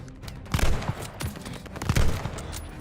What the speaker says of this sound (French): La mitrailleuse de la tour.